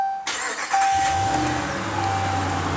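A 2015 Ram 1500's 5.7-liter Hemi V8 cranks and catches, then settles into a steady, deep idle rumble close by, with no voices.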